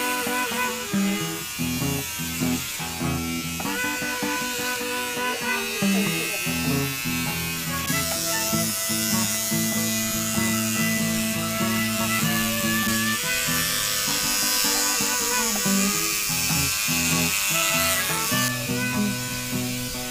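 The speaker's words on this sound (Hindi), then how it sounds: "और ट्रिमर वहीं लगाना कंघी के ऊपर" An electric hair trimmer buzzes steadily as it cuts hair over a comb during a home haircut, a close, continuous hum with changing pitch as it moves, with people talking around it.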